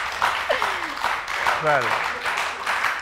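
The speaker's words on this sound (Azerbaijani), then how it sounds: "Bu cavabı alqışlamaq lazımdır." A studio audience applauds on a television talk show. The clapping is steady and mid-level, and a presenter talks over it.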